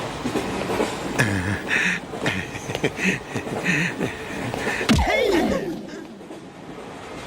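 A train running on rails carries a steady rumble and rhythmic clatter beneath a comedy scene, mixed with a voice and laughter, ending in a sharp swooping sound as the noise fades.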